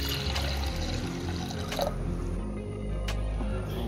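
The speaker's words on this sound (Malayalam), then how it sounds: "വെള്ളം ഒഴിച്ച്" Water is poured into a pressure cooker holding washed lentils for dal fry. The pour is a steady, close liquid rush with a few drips, and no one talks.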